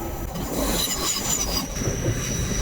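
A train rolls through Ardwick station close and loud, with high metallic wheel squeal over a continuous low rumble of rail noise.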